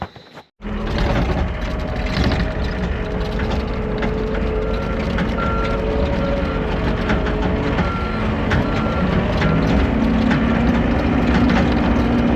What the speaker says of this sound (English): we're gonna find a skid steer, get her loaded up.